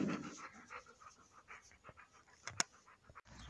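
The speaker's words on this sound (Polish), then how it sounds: "O, pieseczek sobie leży." Quick, faint rhythmic panting of a dog lying down nearby, soft breathy puffs repeating steadily, with no speech.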